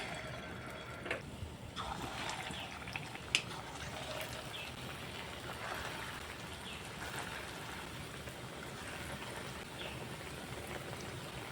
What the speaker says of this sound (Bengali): তেল গরম হয়ে গেছে এবার একটা একটা করে ছেড়ে দেব তেলের মধ্যে